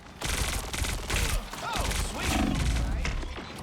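Rapid gunfire bursts from shooting at Iron Man in the game Blade Eternity, a dense run of shots layered with game effects and a rising whine, with talk mixed in throughout.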